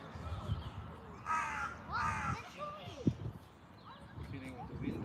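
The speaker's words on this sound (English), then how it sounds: "Sounds of the birds." Crows cawing outdoors during a Kalari movement practice, several harsh calls at moderate distance over a low breezy background, with a voice guiding the session.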